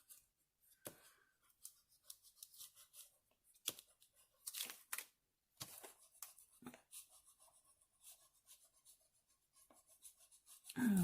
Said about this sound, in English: Let's just have a little burnish, see if we can get them to stick down nicely